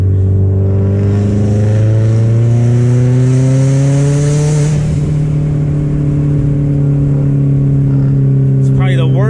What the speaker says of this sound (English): It's probably the worst sounding EJ on the planet.